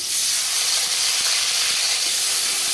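Chopped tomatoes hit a pan of hot mustard oil, setting off a loud, steady hissing sizzle that holds evenly throughout with no speech.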